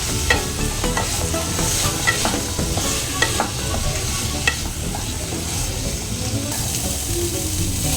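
Chana masala with amchur powder is stirred in a hot pan, a steady close sizzle with spatula scrapes and scattered clicks against the metal, continuous and fairly loud with no voices.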